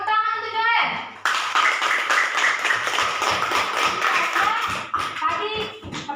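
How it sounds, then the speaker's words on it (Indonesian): Classroom clapping for a student breaks out after a short spoken line, a rapid burst of many hands close by that thins into scattered claps, with children's voices around it. "Tepuk tangan untuk Joel."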